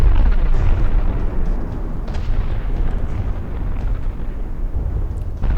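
Heavy naval guns fire from warships in a 1915-era naval combat game, a loud continuous rumble of booming salvos and blasts layered over one another.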